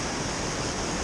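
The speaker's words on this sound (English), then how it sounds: "We're almost here towards the waterfall." A waterfall in northern Japan, reached on a hike, gives a loud, unbroken rushing roar that fills the whole moment with no voices.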